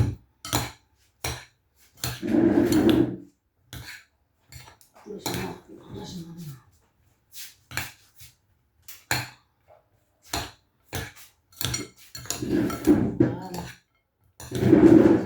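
Mesfouf couscous with dates and pomegranate being mixed by hand in a dish, with oil added, giving intermittent clinks and scrapes of the dish in short bursts between pauses, with a voice talking at times.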